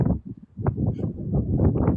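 Strong wind buffets the microphone outdoors, a low continuous roar with gusty surges and rumbling throughout the short stretch.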